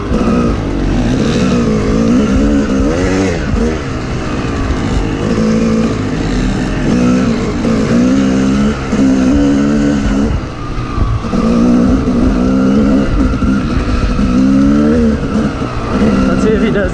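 Dirt bike engine revving and droning steadily throughout on a muddy track with melting snow, loud and close, with wavering pitch as the rider works the throttle; someone talks over it.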